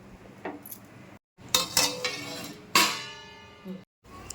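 Metal lid set down on a pot of simmering chicken gravy in a home kitchen, giving a few sharp clanks and scrapes spread over several seconds, close and fairly loud, with short silent gaps between.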